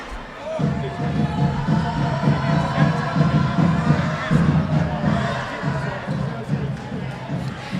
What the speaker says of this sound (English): You can see the Cougars crowd going nuts, trying to get back-to-back wins in this building.